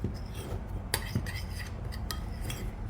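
A spoon stirs cream ingredients, with three spoonfuls of dry milk among them, in a bowl: soft continuous scraping with a few sharp metallic clinks against the bowl, close and moderately quiet.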